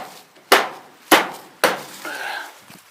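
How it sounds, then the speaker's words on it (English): Three sharp hammer blows knock old wooden lathing and nails loose in an old 1902 farmhouse, evenly spaced and close, followed by a short scraping rattle. "I'm going around and I'm knocking off all this old lathing"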